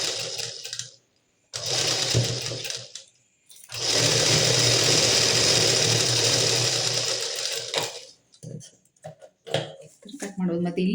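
Sewing machine stitching a plain blouse, running in two bursts: a short run, a pause, then a long steady whir of about four seconds, followed by quiet handling noises and brief speech.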